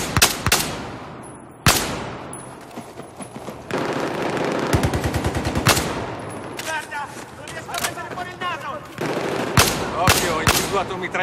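Enemy machine gun fire in the video game Battlefield 4, with loud rapid bursts and single sharp gunshots crackling repeatedly, up close and continuous, and voices heard faintly in between.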